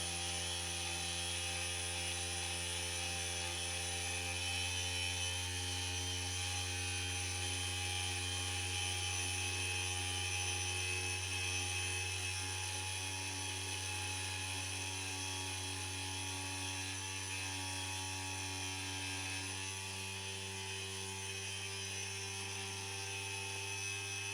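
A machining motor cutting an LS engine block produces a steady tonal whine with layered harmonics and a low hum, continuous and close, rising slightly in pitch toward the end, with no voices.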